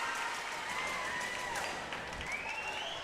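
A high school girls volleyball crowd cheers and claps after an ace. The applause is steady and moderately distant, with scattered shouts mixed into a continuous wash of crowd noise.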